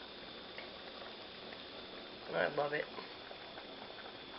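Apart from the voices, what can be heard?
trail stew soup bubbling in pot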